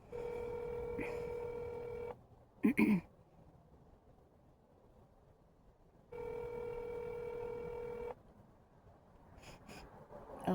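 Telephone keypad tones dialing a bank: two sustained steady multi-tone beeps, each about two seconds, separated by quiet line hiss and a brief clatter, fairly faint and with no talking.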